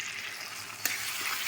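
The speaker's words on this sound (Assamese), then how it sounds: "এতিয়া মই পিঁয়াজটো বিলাহীখিনি ভালকৈ ভাজি লওঁ" Onion and tomato frying in a pan give a steady close sizzle, with one brief stir knock partway through; no one speaks.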